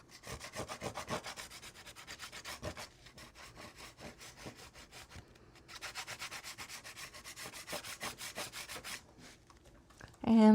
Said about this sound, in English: Okay, and just rub it.